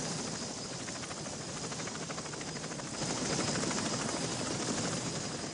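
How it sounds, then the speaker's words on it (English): Huey military helicopter in flight during the Vietnam War, a faint continuous rotor and engine drone with a steady rapid chop, heard alone at a distance. "The Huey was able to carry 11 soldiers and their equipment."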